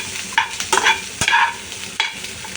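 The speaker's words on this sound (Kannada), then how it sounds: "ಸೊ ಇಲ್ಲಿ ಆನಿಯನ್ ಮತ್ತು ಕ್ಯಾಪ್ಸಿಕಮ್ನ ಫ್ರೈ ಮಾಡ್ಕೊತಾ ಇದ್ದೀನಿ ಅಷ್ಟೇ." Onion and capsicum fry in a pan with a sizzling hiss while a utensil stirs them, scraping and clattering in irregular bursts up close.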